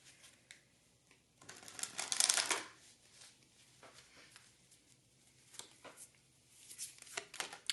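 Oracle cards being shuffled by hand, a loud riffling burst near the start followed by softer intermittent card slides and taps, close and alone with no talking.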